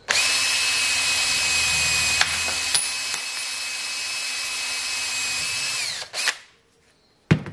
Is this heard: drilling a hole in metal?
yes